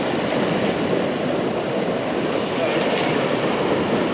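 Sea waves wash against rocks on the Cornwall coast in a loud, constant roar of surf and spray, with wind noise across the microphone.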